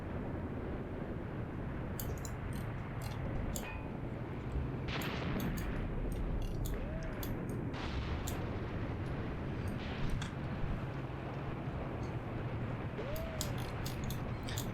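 Field gun explosions in the Graviteam Tactics wargame, with several distant booms and crackling bursts scattered over a steady rumbling battlefield bed, moderately loud.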